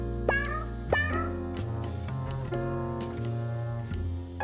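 Cartoonish cat meows from the 100 Capitalist Cats game, two sharp rising meows close together followed by a run of shorter chirpy mews over a soft musical background.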